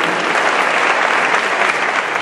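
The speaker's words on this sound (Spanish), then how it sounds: "mi querida señora Lola Indy, un fuerte aplauso para ella" A large congregation applauds at the reinauguration of a synagogue temple in Mexico, a dense, steady wash of clapping filling the whole moment at close, loud level with no voices standing out.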